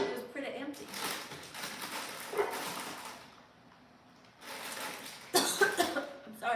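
A woman coughs several times in rough, breathy bursts during a live stream, close to the microphone, with short pauses between fits and a quieter stretch in the middle.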